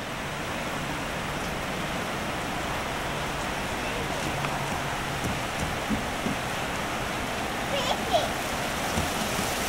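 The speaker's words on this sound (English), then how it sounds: "Raining." Steady rain hisses evenly all around, with occasional louder drips and patters nearby and a few faint voices in the background.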